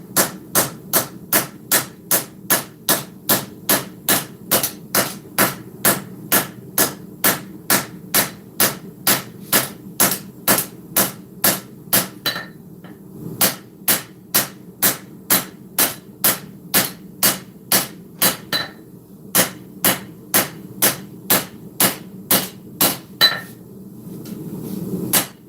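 Hammer blows ring out while a Viking sword is forged, striking hot steel on an anvil. The loud metallic strikes repeat in an even, rapid rhythm for the whole stretch, with a few brief pauses between runs.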